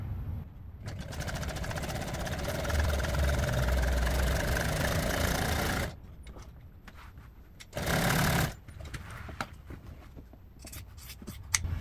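Sewing machine stitching upholstery for an old truck seat, a fast steady whirring run of about five seconds, then a short second burst, followed by quieter handling clicks.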